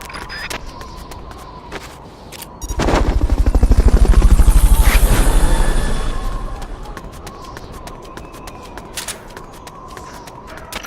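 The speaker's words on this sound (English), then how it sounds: "Fulton recovery subject confirmed onboard helicopter." A helicopter during a Fulton recovery in the video game Metal Gear Solid: Peace Walker. The rotor thumps in sharply, swells into a loud, steady chopping drone, then fades away, with clicks around it.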